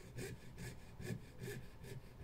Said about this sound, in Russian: Все, начинаем выпиливать.